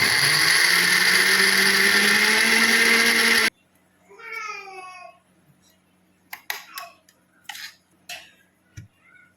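An electric grinder whirs loudly and steadily as it grinds red chilli garlic chutney, then cuts off abruptly, followed by quiet clinks and scraping of utensils.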